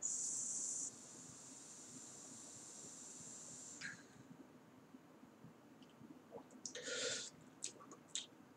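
An Enigma V3 vape atomizer by Tobeco, fitted with premade coils and run at 30 watts, gives a faint, steady high buzz at the start. Softer crackles and small fizzes follow, close and quiet.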